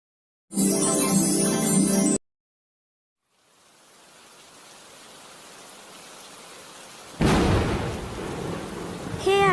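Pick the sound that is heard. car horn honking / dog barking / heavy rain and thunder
heavy rain and thunder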